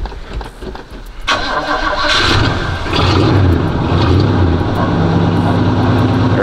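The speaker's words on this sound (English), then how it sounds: "So let me go ahead and get y'all a cold start." An Oldsmobile Cutlass cold-starts with a brief cranking burst, then catches and settles into a loud, steady, rumbling idle that fills the rest of the moment.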